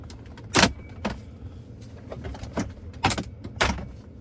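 Plastic creaks, clicks and snaps as the shifter assembly of a Ford F-150 Lightning is pried loose by hand with force, irregular close-up bursts over a quiet interior.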